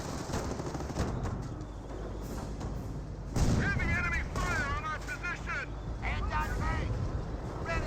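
Sustained MG42 machine gun fire and battle noise rumble steadily in the Company of Heroes game, partly masked by someone talking over it.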